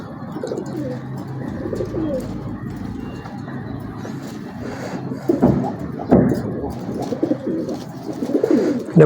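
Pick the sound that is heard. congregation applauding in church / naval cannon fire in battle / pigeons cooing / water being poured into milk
pigeons cooing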